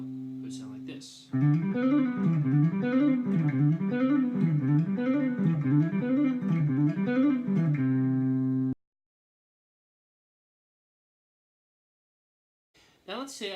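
An electric guitar arpeggiates a major 7th chord in rapid sextuplets at tempo, running root, 2nd, 3rd, 5th, 7th, octave and 9th and back in a steady rolling pattern for several seconds before stopping, then silence.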